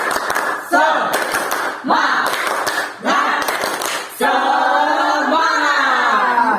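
A group in a school counseling session claps out a rhythmic spirit cheer in three quick patterned bursts, the claps mixed with voices chanting together before a longer stretch of group voices.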